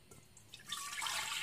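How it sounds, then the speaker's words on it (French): Lukewarm milk is poured into a stand mixer bowl for soft milk bread rolls, a short close liquid splash that swells into a steady trickle. "On va commencer par mettre le lait tiède."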